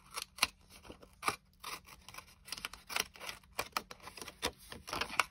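Scissors trim the paper edges of a handmade envelope booklet, giving a run of quick, crisp snips close by with short pauses between cuts and no talking.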